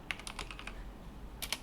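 A computer keyboard types out a file name in a web editor: a quick, faint run of keystrokes, a brief pause, then two more taps close by in a quiet room.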